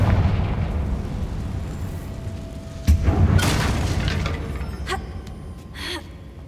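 A Confringo fire spell from the video game Hogwarts Legacy lands with a deep, rolling boom that is loud and close. A sharp second blast near the middle is followed by a few crackling bursts as the rumble fades.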